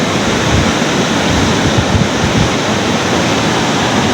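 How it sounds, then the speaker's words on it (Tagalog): Strong northeast monsoon wind gusting by the sea on the northern coast of Zamboanga, a loud, steady roar of wind buffeting the microphone mixed with surf-like rushing, continuous throughout with no voices. "Malakas na din yung amihan dito sa lugar namin"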